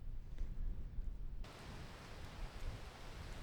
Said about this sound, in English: But now it starts to rain a wee bit.